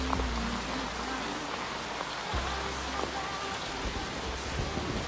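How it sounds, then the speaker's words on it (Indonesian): Heavy rain pours steadily onto surfaces, a dense, continuous hiss with scattered drops and a low rumble underneath, loud and unbroken with no voices. "Tapi Gus, ini hujan deras."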